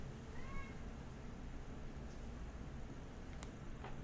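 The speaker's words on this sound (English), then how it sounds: "My cat is being irritating behind me." A house cat meows a couple of times close by in an indoor room, the calls short and fairly quiet over steady background hiss.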